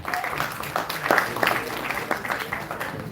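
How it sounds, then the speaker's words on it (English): A student orientation audience claps briefly for a university tech team building solar-powered racing airships, a short moderately loud burst of scattered clapping with some crowd murmur. "So give a huge round of applause for Team Spark."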